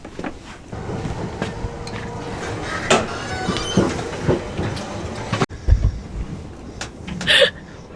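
A Swiss train rolls along as heard from inside a carriage, with steady rumbling, rhythmic clacking and rattles, a brief cut partway, and a sharp clatter near the end.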